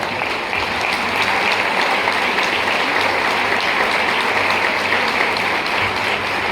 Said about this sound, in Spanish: Le damos un aplauso a la palabra de Dios.